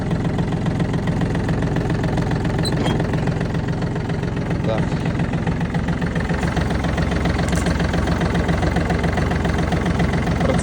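A Yanmar RS 27 tractor with a cold-starting diesel engine idling close by, a steady loud knocking chug throughout with no pause.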